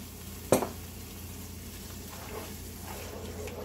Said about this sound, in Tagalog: Kalahati lang po ng gata na gagamitin natin, ilagay natin.